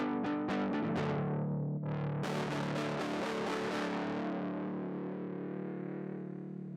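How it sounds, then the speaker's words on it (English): Heavily fuzzed electric guitar with thick, saturated distortion, a few picked notes followed by strummed chords sustaining into a buzzing drone. "I just want to layer the super heavy fuzz in this part here"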